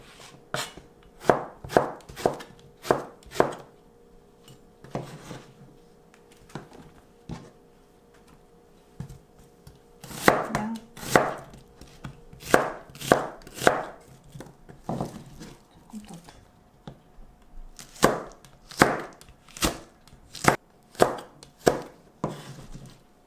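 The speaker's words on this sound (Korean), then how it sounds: "재료는 다 썰었습니다" A knife chops ingredients for stir-fried green pumpkin on a cutting board in quick bursts of sharp, close knocks, with pauses between runs.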